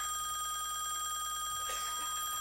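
A telephone rings with a steady electronic trill, continuous and unanswered, clear and fairly close throughout.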